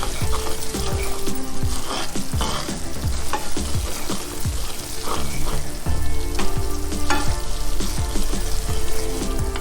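Semolina sizzles in ghee in a pan while a spoon scrapes and stirs repeatedly, steady frying noise with rhythmic scraping strokes, close by.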